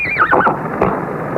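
A horse gives a loud, close whinny, a quavering neigh that falls in pitch over about half a second, followed by a couple of brief snorts or thumps.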